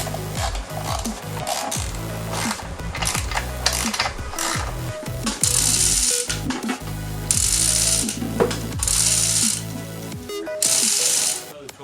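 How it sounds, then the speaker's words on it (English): A ratchet rapidly clicking as it tightens bolts that join a T5 transmission to a 302 engine, with bursts of metallic ratcheting and clanks, close and loud, and a voice talking briefly. "So now we're bolting the trans to the motor."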